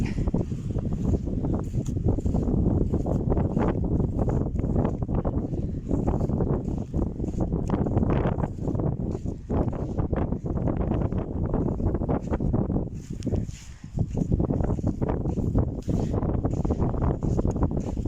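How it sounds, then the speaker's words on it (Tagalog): Strong wind at sea during a fishing trip buffets the microphone in loud, continuous gusts that rumble and roar with only a brief lull partway through. "mali yung timing ngayon kasi malakas yung hangin"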